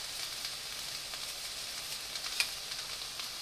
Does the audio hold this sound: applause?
no